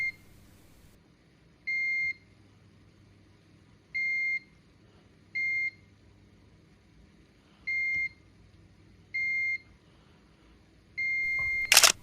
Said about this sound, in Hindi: इस कैपेसिटर पे मुझे दोनों तरफ बीप मिल रहा है